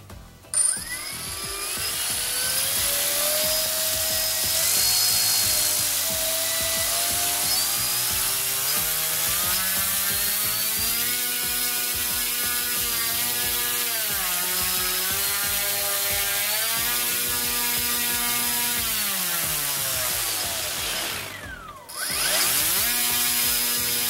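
Sunnysky V brushless motor on a 3-cell battery spinning a 10-inch propeller on a thrust test stand, whining loudly and steadily, with its pitch rising and falling as the throttle changes, then cutting out briefly and spinning back up.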